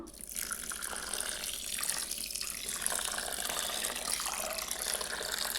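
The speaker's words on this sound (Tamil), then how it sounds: "இப்போ இதுக்கு தண்ணி ஊற்றிக்கலாம்" Water is poured from a tap over washed raw rice in a kitchen, a steady, splashy hiss of running water lasting several seconds with no voices.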